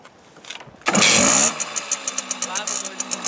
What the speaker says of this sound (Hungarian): nézzük meg, hogy indul jelenlegi állapotában a motorkerékpár